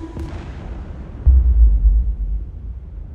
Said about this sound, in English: the M777 can deliver 24 pounds of explosive firepower to targets 18 to 25 miles away